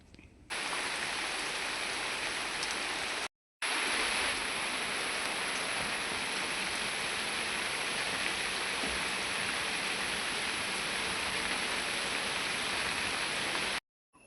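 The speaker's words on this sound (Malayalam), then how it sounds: "അപ്പോൾ അങ്ങനെ എപ്പോഴും നല്ല മഴയാണ്" Steady heavy rain pours outside on a wet monsoon day, a dense, even hiss that stays constant throughout, briefly cut off near the start before resuming unbroken with no voices.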